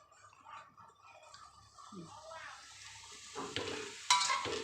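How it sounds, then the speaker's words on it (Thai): Cabbage, carrot and minced pork stir-fry in a pan with a faint, low sizzle and soft scraping stirs, building to a louder clatter of utensil on pan near the end, with a quiet voice in the background. "ผัดกระลำใส่แครอทจ้ะแล้วก็หมูสับ"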